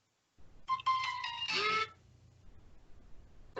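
A short melodic phone ringtone plays, moderately loud and close, with a few stepped electronic notes over about a second and a half, then fades into quiet room noise.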